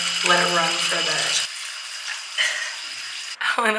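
Tap water that had been running brown pours steadily into a sink with a constant rushing hiss, while voices talk over it nearby.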